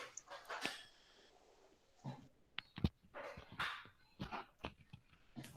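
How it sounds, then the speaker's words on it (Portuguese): A restless, agitated dog barks and yips in a series of sharp bursts, some close and loud, scattered irregularly with brief pauses between them, heard indoors during a lecture setting. "o cachorro está agitado hoje"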